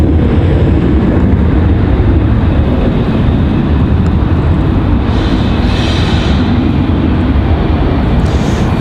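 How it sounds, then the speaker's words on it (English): Strong wind roars at night at Raleigh-Durham International Airport, a steady loud broadband rush that does not let up for the whole stretch. "strong headwind here this evening"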